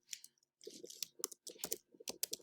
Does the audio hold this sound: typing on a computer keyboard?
yes